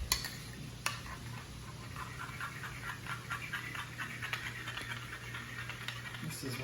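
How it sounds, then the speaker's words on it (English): Sour cream and soy sauce being stirred together in a bowl, soft repeated scraping and clinking strokes at a steady rhythm over a low background hum, fairly quiet, with no talking. "And mix that all up."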